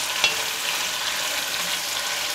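Food stirred in a non-stick pan while cooking Chinese braised pork, a loud, constant close-up sizzle with one brief scrape of a utensil early on, no talking.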